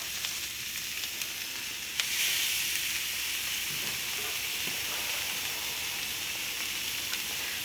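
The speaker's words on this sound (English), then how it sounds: "I'm just doing a real hot and quick grilling to a medium rare" Moose steaks searing on a very hot grill give a loud, steady hiss and sizzle, close up and continuous, with a brief burst of stronger spitting as meat is added.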